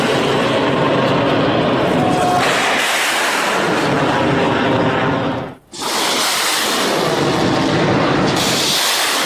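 Missile attack explosions in a war strike, heard as continuous heavy rumbling booms and roaring blasts, loud and sustained, with a brief near-silent break midway before the thunderous roar resumes.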